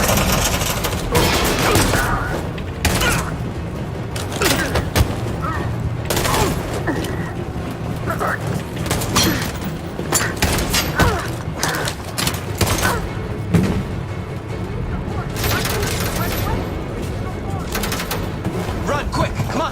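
Rapid gunfire and bursts of shooting in Detroit: Become Human, dense volleys and thuds running continuously, loud and close, with voices shouting over the combat.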